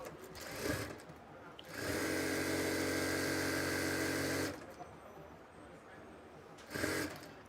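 A sewing machine stitches the side seam of a skirt palazzo in one steady, loud whirring run of about three seconds, with shorter bursts before and after and quiet handling sounds between.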